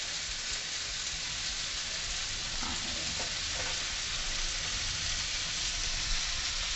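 Fried potatoes go into a cashew masala in a pan and are stirred, under a steady, close, dense sizzle with faint scraping of the spoon and no talking.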